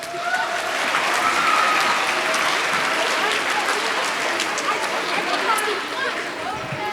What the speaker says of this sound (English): Yes, you can applaud for them.